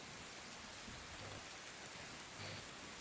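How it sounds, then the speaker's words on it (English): Steady rain ambience set as background for a tabletop fantasy role-playing session, a continuous even wash of falling rain with no voices. "It's raining."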